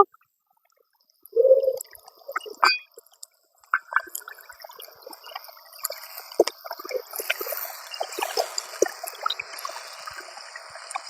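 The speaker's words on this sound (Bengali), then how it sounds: "পেস্ট করে রাখা মশলার জলটা দিয়ে দেব" Spice-paste water splashes into a paneer curry, pouring and gurgling for a few seconds before settling into a busy bubbling and sizzling in the pan.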